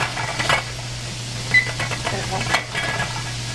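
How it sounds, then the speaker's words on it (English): Chopped spring onion tops sauteing in butter and olive oil in a pan, a soft, uneven sizzle with occasional stirring scrapes under a low background hum. "And let that saute for a few minutes."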